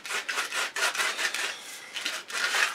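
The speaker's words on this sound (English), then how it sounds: "Just literally get some sandpaper, rough grit, so it's not as much effort." A wooden club is sanded by hand with rough grit sandpaper, producing close, steady rasping strokes in a continuous back-and-forth rhythm.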